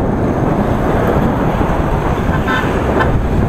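Dense motorbike and moped traffic on a busy road in Vietnam roars as a constant loud wash of engine noise, with a couple of faint horn toots poking through near the end.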